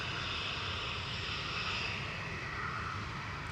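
A KLM airliner departs Manchester Airport, its engines a faint, distant, even roar with a soft high whine, steady throughout and without speech.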